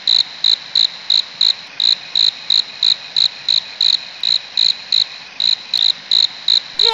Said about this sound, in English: Away with you pesky insects.